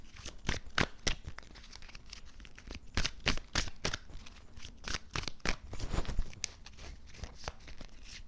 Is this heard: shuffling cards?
yes